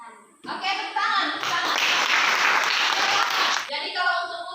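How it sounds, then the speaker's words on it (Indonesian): Children in a classroom clap their hands together in a dense, steady burst lasting a few seconds, with a teacher's voice just before and after. "Oke, tepuk tangan."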